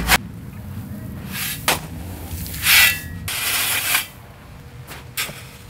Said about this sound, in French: Pour une surface plane, tu dois maintenant répandre 4 cm de gravillon.